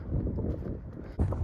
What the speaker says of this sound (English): it's very windy today, albeit very sunny